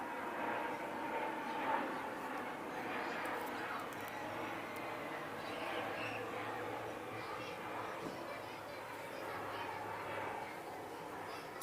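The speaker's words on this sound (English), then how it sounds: "airplane." An airplane passes overhead above an outdoor yard with fruit trees, a faint, distant, steady drone that lingers throughout, with birds cooing softly in the background.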